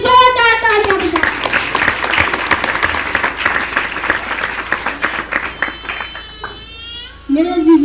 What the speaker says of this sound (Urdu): اس بڑے کے لیے زوردار تالیاں بجائیں